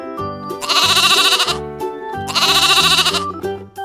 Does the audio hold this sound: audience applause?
no